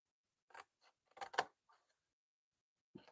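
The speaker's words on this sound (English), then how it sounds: "We're going to snip in this way." Scissors snip into a box card in several short, close cuts grouped around the middle, with a brief muffled bump at the end and quiet gaps between.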